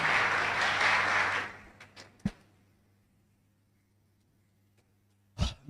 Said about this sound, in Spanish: Pueden brindar un fuerte aplauso al Señor.